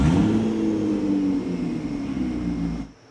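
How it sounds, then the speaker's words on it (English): A car with its catalytic converter stolen starts and runs with a loud, raw, droning exhaust roar that holds steady for about three seconds before cutting off abruptly. "when you start your car, it'll sound like this."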